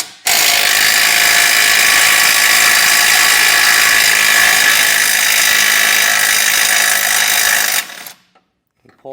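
A power tool rattles away at a 16mm head bolt on a 2021 Jeep frame stiffener, one loud continuous buzzing ratchet run of about eight seconds that stops abruptly, heard alone without speech.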